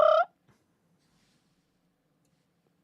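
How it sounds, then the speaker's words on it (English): A short bird call from Jurassic World: Fallen Kingdom, a single gobbling squawk at the very start, then near silence. "Dude, that bird noise, so good."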